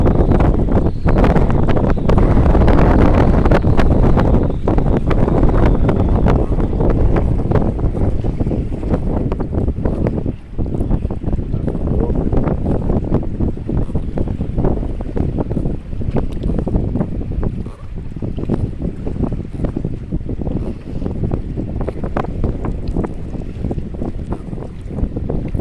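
Strong wind roars steadily across an open waterside spot near a boat, loud and continuous for the whole stretch with gusty buffeting against the microphone and no voices.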